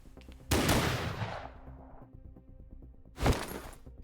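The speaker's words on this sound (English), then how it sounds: "The gunshot cracked through the air as I surged forward" Two sharp pistol shots in the video game Snowbreak, each a loud crack with a ringing tail, spaced a few seconds apart over a low rhythmic game background with no voices.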